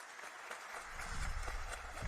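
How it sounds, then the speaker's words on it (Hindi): An audience claps to welcome a performer onto the stage at a talent competition, a soft, even wash of applause that swells slightly and grows fuller toward the end, with no talk. "तालियों से स्वागत करें।"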